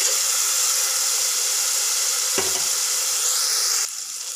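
Spice paste for a coconut-free chicken curry fries in a pan, a bright continuous sizzle with one sharp clank partway through before the hiss drops slightly.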